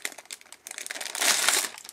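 Plastic bags crinkle and rustle nearby in quick, uneven handling, building to a louder, denser crackle near the end.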